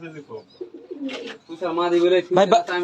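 Pigeons in a loft coo repeatedly in soft, throaty rolling phrases, several birds close by, with a voice talking over them at times.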